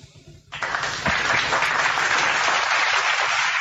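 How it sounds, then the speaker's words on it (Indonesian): A crowd claps for Jesus at a gathering. The applause starts abruptly after a short pause, swells, and holds as a loud, dense, continuous clapping wash. "Tepuk tangan untuk Yesus"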